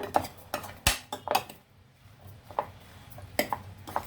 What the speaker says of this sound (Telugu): ఇవన్నీ మనము ఇలాగ బాగా మిక్స్ చేసేయాలన్నమాట.